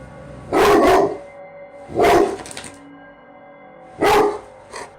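A dog barks in three loud, separate bursts spaced about two seconds apart, close by, with quiet room tone between.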